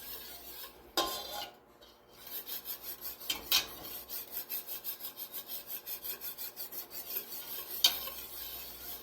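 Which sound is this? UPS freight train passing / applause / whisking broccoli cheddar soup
whisking broccoli cheddar soup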